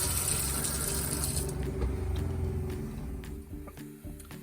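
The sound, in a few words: running water from faucet in bus conversion kitchen sink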